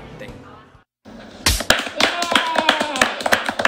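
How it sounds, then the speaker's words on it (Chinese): Studio guests on a variety show break into applause after a short pause, with crisp, close hand claps building into a lively, uneven burst. "要先掌声一下"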